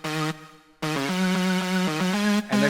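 Extra pitched synth layers from a track's chorus play bright, harmonically rich sustained notes in a stepping melodic line, loud and upfront, briefly cutting out to near silence twice.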